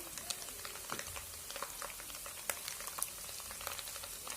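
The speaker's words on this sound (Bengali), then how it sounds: "ভালোভাবে নেড়ে মিশিয়ে দেব।" Ingredients for an egg biryani being stirred and mixed in a pan, with soft scraping, light clicks and a faint sizzle running steadily and quietly throughout.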